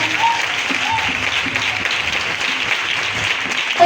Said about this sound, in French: Et c'est l'acclamation, ça.